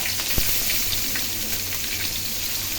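Finely chopped onions fry in hot oil with curry leaves for a fish curry, a steady, moderate crackling sizzle with a single soft knock.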